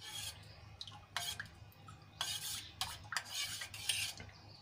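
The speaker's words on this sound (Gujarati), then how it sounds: "બધું સરસ રીતે છાશમાં મિક્સ કરી લઈશું." A spoon stirs spiced green masala buttermilk in a mixer jar, giving a few close, separate scraping and clinking strokes against the container over a low hum, with no talking.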